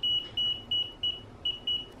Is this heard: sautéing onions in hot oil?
no